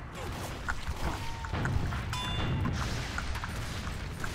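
Rocket explosions from a Soldier firing at his own feet in Team Fortress 2: deep booming blasts and thuds repeat over a loud, busy battle din, with scattered impacts and mechanical noise.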